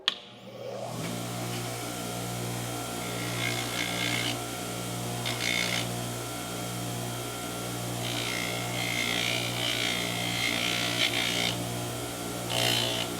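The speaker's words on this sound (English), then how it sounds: "So let's hit it with the nylon abrasive wheel." Nylon abrasive wheel on a power tool scuffing coating off metal before buffing, producing a steady droning whir with rough grinding surges as the wheel presses against the workpiece.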